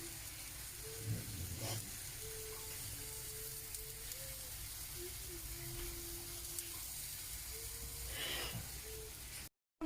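A smash burger patty sizzles steadily in a hot pan, a continuous broad crackle with a few faint clinks and soft background voices now and then.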